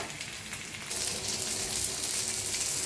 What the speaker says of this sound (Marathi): आता इकडं बी 5 मिनिटं आणि भाजून घेऊया चांगली क्रिस्पी होईस्तर